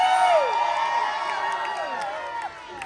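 Crowd cheering and whooping at a shipboard party on a Carnival cruise, a dense burst of excited voices that starts loud and gradually tapers off.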